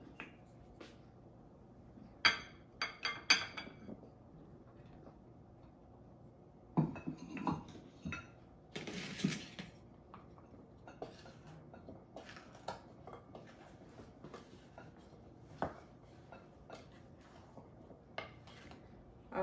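Cold butter is worked into flour in a mixing bowl for buttermilk biscuits, giving soft, sparse clinks and taps of a utensil against the bowl with quiet gaps between them and one brief busier scraping burst.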